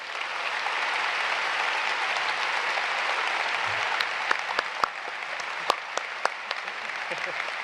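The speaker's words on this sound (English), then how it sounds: "Let's give them all a round of applause." A graduation audience at a high school ceremony applauds its assistant principals, a broad continuous wash of clapping with a few sharper individual claps standing out near the end.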